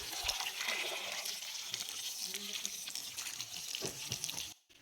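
A Honda Activa 5G air filter is washed under running tap water, with a steady close splashing and hissing stream that cuts off sharply at the end.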